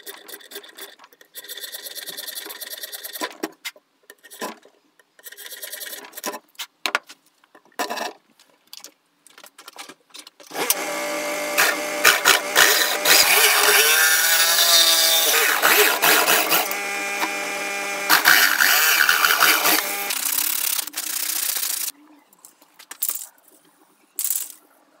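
Saw cutting through chipboard for a speaker mount in a VW T4 van, a long continuous harsh rasping run of about ten seconds, loud and close, framed by scattered knocks and handling noises.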